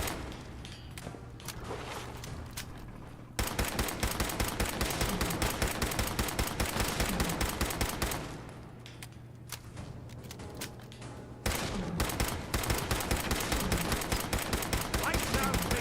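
Sustained gunfire from a .38 weapon in Fallout 4, with rapid cracking shots in dense volleys broken by quieter lulls around three and eight to eleven seconds, loud and close with some voice mixed in.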